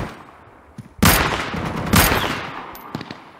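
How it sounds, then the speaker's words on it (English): Two loud, close gunshot bursts crack out about a second apart in the survival shooter Deadside, each trailing into an echoing decay, with faint scattered shots after and no talk. "I hear shooting, yeah. But I don't see anybody."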